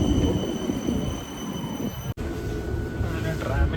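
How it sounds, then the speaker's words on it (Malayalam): Tram number 7 pulls in at a stop in Tallinn, a steady rumbling rail noise with faint high tones, close and continuous for several seconds with a brief cut near the middle. "അങ്ങനെ അതാ ട്രാം എത്തി. 7 നമ്പർ."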